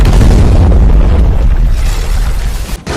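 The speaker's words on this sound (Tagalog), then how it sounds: "Isang malakas na pagsabog ang narinig nila" A loud, deep explosion rumbles and gradually fades, heavy low-end booming that tails off into a brief dull thud.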